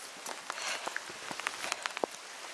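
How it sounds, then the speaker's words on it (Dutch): Steady rain falling outdoors and picking up in intensity, a dense hiss scattered with sharp individual drop taps and patters close by. "Het gaat harder regenen, jongens."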